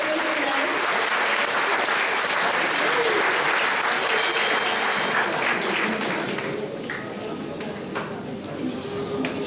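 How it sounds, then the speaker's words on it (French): Sustained audience applause fills a school prize-giving ceremony at a lycée, dense, steady clapping from a crowd continuing for the whole stretch and thinning slightly toward the end. "Voilà, les applaudissements pour les élèves."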